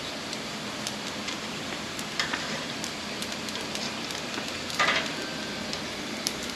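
Mahi fish pieces searing on a hot grill give a steady, close sizzle with a few sharper crackles and pops scattered through it. No one speaks.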